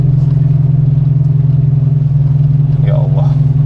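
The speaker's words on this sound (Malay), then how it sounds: "Bunyi sebenarnya bunyi exhaust ni bocor." Proton Saga car engine with a leaking exhaust, idling with a steady, loud, throbbing low rumble that sounds like a V8, up close, with a brief faint higher sound near the end.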